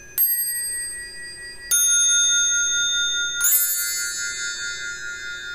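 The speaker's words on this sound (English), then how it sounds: "it's called a belltree." A brass belltree with eight bells is struck three times, each strike a bright shimmering ring that sustains and rings on, loud and close with no talking.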